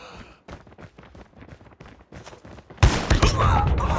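Shotgun blasts and game effects from Call of Duty Mobile come in a sharp burst, first as a string of quieter clicks and thuds, then as a loud, dense blast of gunfire near the end.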